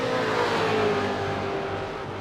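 V8 race cars battle closely at Phillip Island. Loud, sustained engine roar is heard with overlapping high-pitched whines as several cars run nose to tail.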